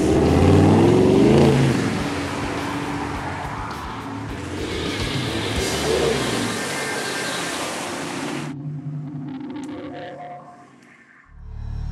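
A 4WD truck engine roars hard as it is gunned through a deep mud rut, with loud revving and splashing for about eight seconds before cutting off abruptly, followed by quieter rumbling.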